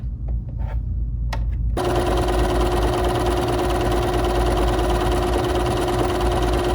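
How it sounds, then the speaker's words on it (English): A Bernina 3 Series sewing machine runs steadily through a decorative stitch, a loud continuous mechanical hum and whir that starts after a couple of soft clicks and keeps an even rhythm throughout. "I want to stitch this exactly the way that it comes when you stitch it on the machine."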